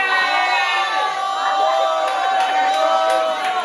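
Crowd at a Jamaican-style Oktoberfest party cheering and shouting to vote for a female contestant, a dense, steady wall of excited voices with whoops and high shouts throughout.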